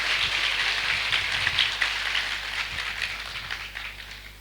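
A crowd of new forestry faculty students and staff applauding at an orientation event, steady dense clapping that slowly thins and fades over a few seconds with no talk.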